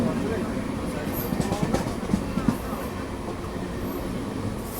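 A passenger train of LHB coaches, a Janshatabdi Express, rumbles steadily along the rails with a low continuous roar and a few faint clicks, heard from inside a train with some indistinct voices.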